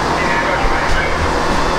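Ambience at a railway station in Leicester: steady broadband rumble and wash of noise from the platform while waiting for a train to Peterborough, with a voice talking faintly under it.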